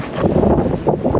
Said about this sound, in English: It's windy as all get out